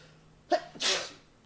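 A single sharp human sneeze, close and loud, with a quick intake of breath before it, during a live-streamed game session; no talking.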